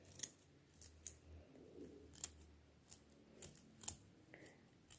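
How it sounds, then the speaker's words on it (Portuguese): Scissors snipping through the bristles of an old paintbrush, a series of short, sharp cuts with irregular gaps, close and fairly quiet with no talk. "Vocês cortam enviesado e vai cortando"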